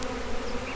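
Honey bees from a newly picked-up bee package buzzing close by, a dense, continuous drone with a steady pitch and no voices.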